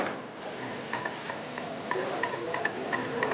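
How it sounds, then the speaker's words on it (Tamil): A steady hiss of chopped onions sautéing in a pan, with faint scattered ticks and pops over the sizzle. "இந்த முன்னாடி நறுக்கி வச்சுருந்த வெங்காயத்தை போட்டு"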